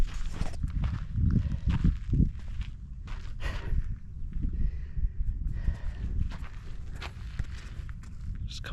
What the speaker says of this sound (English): Just a couple donkeys